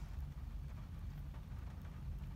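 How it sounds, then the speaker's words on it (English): Steady rain falling outside on a November day, a continuous soft hiss with a low rumbling wash beneath it, even and moderately faint throughout. "it's raining, so that's, I guess that makes it a bit of a rough day"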